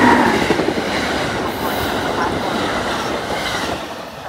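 A train rolls through Fairview Avenue station with a steady, close rumble and rattle of wheels on track, fading slightly toward the end.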